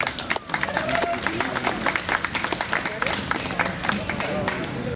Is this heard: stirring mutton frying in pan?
no